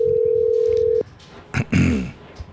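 A steady single-pitched phone tone holds for about a second, then cuts off, leaving quiet room noise and a couple of brief low thumps.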